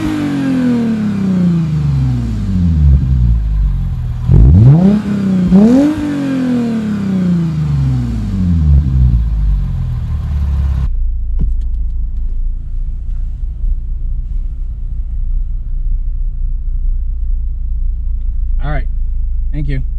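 A Lexus IS350 with a Joez catback exhaust revs through repeated deep, rising and falling engine sweeps up close, then settles into a low steady idle rumble for the rest of the stretch.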